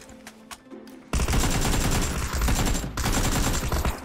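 Gunfire in PUBG, a sudden loud sustained burst of rapid shots starting after a quiet moment, continuing with a brief dip before more firing, close and dominant.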